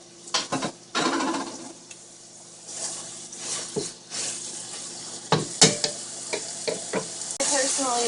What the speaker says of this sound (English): You toss in some steak when it's hot.